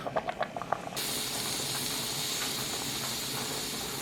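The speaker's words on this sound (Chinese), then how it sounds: "盖上盖子，继续让炖着。" A covered pot of gastrodia chicken soup seasoned with goji berries, salt and pepper simmers. A few brief clinks give way to a steady, close, continuous steaming hiss with no voices.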